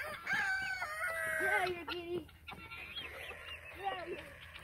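Rooster squawking and calling loudly while guinea fowl attack it, with honking, clucking bird cries overlapping close by in a noisy farmyard scuffle.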